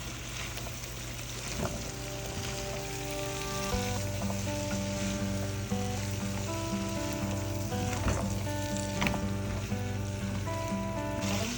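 A curry with freshly added green chilies sizzles steadily in a pan, a dense continuous frying hiss with a few sharper pops and stirring scrapes, while a faint tonal hum runs underneath; nobody speaks.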